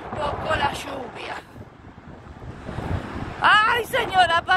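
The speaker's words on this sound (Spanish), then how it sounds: "Amanecimos con un viento helado." Cold wind blows by a rough sea before a storm, a steady rushing gust with surf beneath, heard mostly under a woman's speech that comes and goes.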